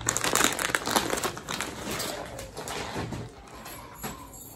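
A cloth dress in mustard orange is unfolded and shaken out, giving soft crinkling and rustling fabric sounds that fade slightly over a few seconds, with no one speaking.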